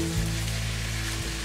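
Pineapple fried rice with king prawns sizzles steadily in a hot pan while being stirred, a loud continuous frying hiss with a low steady hum underneath and no voices.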